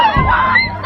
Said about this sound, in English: So as you see people just screaming.